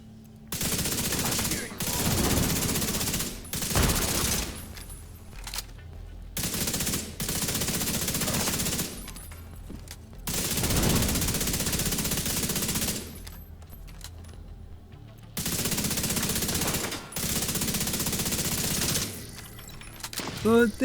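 Bursts of automatic gunfire in The Division 2, several long sustained volleys separated by short pauses, loud and close.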